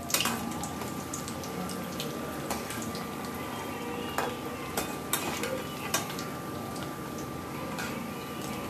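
Chickpea vada frying in hot oil fills the scene with a dense, steady sizzle, punctuated by small crisp pops and ticks, close and continuous without talk.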